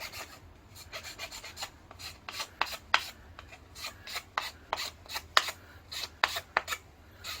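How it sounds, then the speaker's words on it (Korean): A plastic pipe end being filed smooth while building a cyclone dust collector, a close, steady series of dry rasping strokes in an uneven rhythm, alone without talk. "그러니까 이제 끝에를 조금 갈아주겠습니다"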